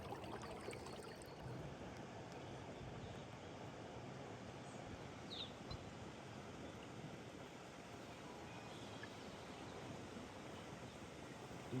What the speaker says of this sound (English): You can hear where the water floods down.